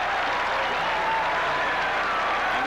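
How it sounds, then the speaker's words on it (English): A football stadium crowd at a 1986 Bears–Buccaneers game applauds and cheers after a quarterback sneak for a first down, a steady, dense roar of clapping and voices filling the whole stretch at moderate loudness. "And the crowd shows its approval."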